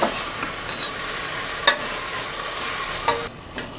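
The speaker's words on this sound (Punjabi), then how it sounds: "ਟਮਾਟਰ ਹੁਣ ਆਪਾਂ 2-3 ਮਿੰਟ ਇਹਨੂੰ ਭੁੰਨਾਂਗੇ" Tomatoes, bell peppers and other vegetables sizzle steadily as they fry in a pan for khichdi, with a broad hiss throughout and a few sharp clinks and scrapes from stirring.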